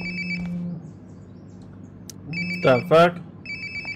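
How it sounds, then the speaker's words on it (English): A phone rings in Life Is Strange: Before the Storm, with repeated electronic ring bursts separated by pauses. A startled voice speaks briefly between the rings. "Sounds like my phone is definitely nearby."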